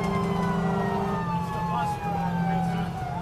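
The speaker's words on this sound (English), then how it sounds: "When they approach an intersection, they'll hit the air horn." A fire engine responding to a call sounds its siren close by, with long wailing tones sweeping downward over a low, steady horn-like drone and constant road rumble.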